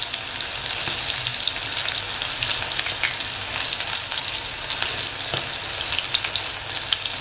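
Batter-coated squid rings fry in hot oil over a low flame, giving a continuous dense crackling sizzle close by with no talking.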